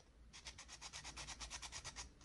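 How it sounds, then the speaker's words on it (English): A nail buffer roughens a fingernail to remove its shine, making a fast, even series of about a dozen soft scratchy strokes, close and faint, with no talking. "you're going to remove the shine from your nail, kind of create some scratches in it"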